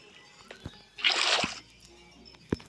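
Flowing water in the Minecraft video game gives a short rushing, sloshing burst in the middle, standing clearly above faint background clicks and thumps.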